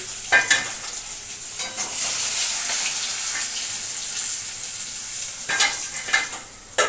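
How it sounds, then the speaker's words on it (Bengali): Fish head frying in oil with a constant crackling sizzle, interrupted by a few sharp scraping bursts from a spatula in the pan. "দেখো মাছের মাথাটা কিন্তু পুরো ভাজা হয়ে গেছে"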